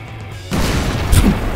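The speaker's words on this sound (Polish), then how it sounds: "ten wybuch by spowodował coś tak potężnego, że nic praktycznie z niego nie zostało" A sudden explosion in the destruction game Teardown hits after a quieter lead-in, a loud sustained boom with crashing debris and a sharper impact a moment later.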